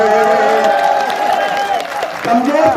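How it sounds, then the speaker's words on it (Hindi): A crowd claps and cheers at an outdoor political rally in Banihal, Jammu and Kashmir, the applause loud and continuous while an amplified speaker's voice rings over it. "कमजोर ताली बजी है,"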